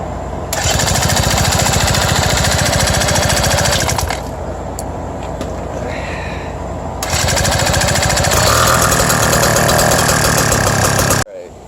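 BT-80 electric start motorized bicycle engine fitted with a custom exhaust pipe, running loud and close with a rapid rattling putter, briefly dropping to a quieter idle and then revving back up before cutting off.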